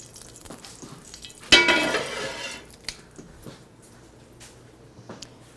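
Pork tenderloin hitting a hot frying pan, a sudden loud sizzle that bursts up and then fades over a couple of seconds, followed by faint clinks and quiet kitchen sounds.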